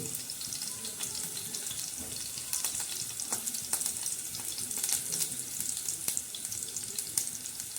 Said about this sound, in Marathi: आता आपण लसणाचा आणि जिऱ्याचा तेलामध्ये मस्तपैकी असा छान असा तडका दिलेला आहे